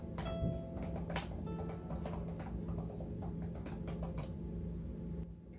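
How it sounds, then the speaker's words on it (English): Rapid typing on an iPad Pro 12.9-inch Magic Keyboard, a close, quiet run of crisp key clicks and taps in an irregular stream, with no talking. "It makes a really great typing sound."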